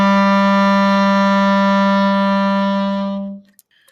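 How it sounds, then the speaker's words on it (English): A clarinet sustains a low A as one steady, close, rich tone with strong harmonics for over three seconds, then stops cleanly into near silence. "The low A in the clarinet sounds like this."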